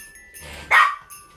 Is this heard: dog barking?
yes